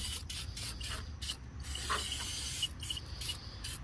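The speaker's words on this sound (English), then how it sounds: "So get everything sprayed down here." Cleaner sprayed onto a Tractor Supply County Line 25-ton log splitter: a steady, close hiss of spray broken by brief pauses and a few small mechanical clicks.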